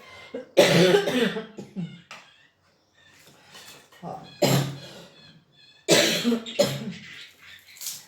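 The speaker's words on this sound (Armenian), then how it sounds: "ինձ հազացնում է, այդ հազը որ ջրիկացնի էլի" A person coughs in several harsh, close bursts, a wet lingering cough from illness, with short pauses and faint breathing between the fits.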